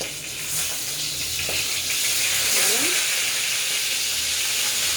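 Steady sizzling of bagus fish frying in hot oil, a bright continuous hiss with occasional spatters, close up and fairly loud.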